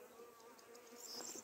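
A steady, close buzzing of many honeybees at a hive hums continuously, a soft swarm drone with no voices.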